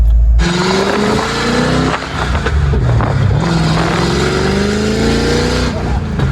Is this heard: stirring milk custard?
no